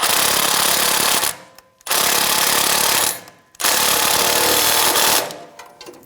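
A pneumatic impact tool drives a 14mm socket onto an exhaust bolt on a 2005–2010 Toyota Tacoma 2.7L. Three loud, close, rattling bursts are separated by short pauses, and the last burst trails off.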